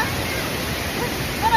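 A mountain waterfall and stream flowing, a steady broadband rush of water heard close and continuous, with a faint brief voice at the very end.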